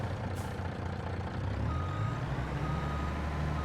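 A reversing truck in the Farming Simulator 22 video game gives off a steady, continuous electronic beeping over a low engine rumble, at a moderate level throughout, with no talking.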